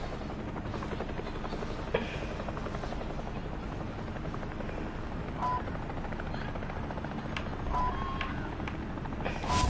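Thudding rotor drone of a helicopter in the Warzone video game fills the scene, loud and continuous, with faint distant gunfire popping in the background.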